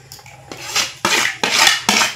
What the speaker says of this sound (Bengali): এখন আমি একটা বাটিতে আমি সাবুদানাটা ঢেলে নিচ্ছি